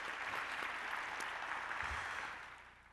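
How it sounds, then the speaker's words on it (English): Audience applause at a university faculty convocation, a dense, steady wash of many hands clapping close by, holding level for over two seconds before starting to fade out at the end. "So please give our president and the team a round of applause."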